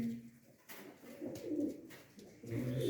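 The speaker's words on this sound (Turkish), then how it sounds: "Bu akşam çıkacak olan kuşlar bunlar." Pigeons, including Arab females offered for sale, coo softly and repeatedly at close range, their low rolling calls rising and falling against a quiet background.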